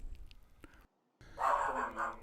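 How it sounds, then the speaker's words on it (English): A dog barks at close range near the end, a short burst of loud barking after a pause of silence, following quieter background noise. "And that's my dog that you hear."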